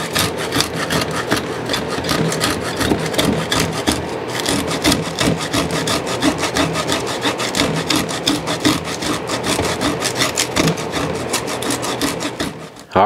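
Dried varnish conk mushroom is rubbed against the fine side of a hand grater, making continuous rapid rasping strokes, loud, close and rhythmic, with no talking.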